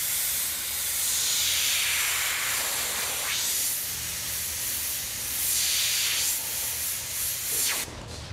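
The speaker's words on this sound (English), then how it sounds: "this is the texturing that I use with an airbrush." An airbrush sprays paint to fill in a solid design, giving a steady close hiss that swells and fades in a few sweeping passes, with a brief pause near the end.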